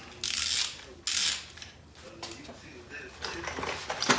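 A 3/8 socket ratchet clicks while loosening an intake bolt on a 1987 McLaren Mustang engine during a teardown, with two loud close bursts of ratcheting followed by lighter clicking and tool handling under quiet talk.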